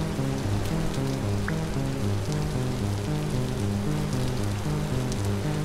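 Steady rain falls in a video game as a constant loud hiss, with a low repeating musical tone pattern underneath and no talking.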